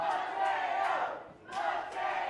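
Wrestling match crowd roaring and chanting in surging waves, a loud sustained wall of voices that dips briefly before swelling again.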